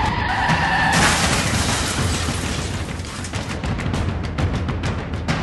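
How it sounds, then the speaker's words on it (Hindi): A white SUV speeding and swerving on a busy road, slamming into an oncoming motorcyclist and then into a roadside cart, heard as a loud, dense burst of crash and tire noise with sharp impacts at the start, followed by continuing road din. "सड़क पर तेज रफ्तार से आ रही सफेद रंग की ये एसयूवी कार लहराते हुए आई और सीधे सामने आ रही एक बाइक सवार को टक्कर मारती हुई सड़क किनारे खड़े ठेले से जा"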